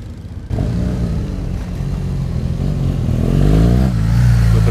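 A BMW motorcycle engine with a light flywheel idles loudly and close by, then its throttle is blipped in quick revs that rise and fall, climbing to a heavier rev near the end.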